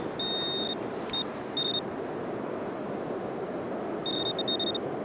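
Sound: metal detector pinpointer beeping over a coin

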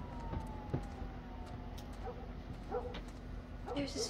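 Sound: dog barking in the video game The Last of Us

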